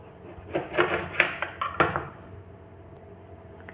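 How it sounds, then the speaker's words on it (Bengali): A knife slices a lemon into pieces on a wooden cutting board, a cluster of close, sharp taps and cuts in the first two seconds, then quiet kitchen room tone. "সর্বপ্রথম লেবুটাকে স্লাইস করে কেটে নেব"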